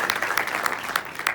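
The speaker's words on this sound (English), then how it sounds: "Give her a round of applause, please." A seminar audience breaks into applause, a brisk wash of many clapping hands with a few sharper claps standing out, brief and fairly loud.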